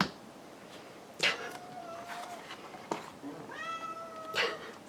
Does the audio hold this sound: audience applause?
no